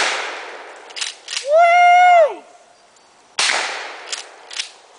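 Gunshots aimed at cans ring out as a few sharp, loud cracks with short echoing tails, separated by a brief high, tonal whine and quieter gaps.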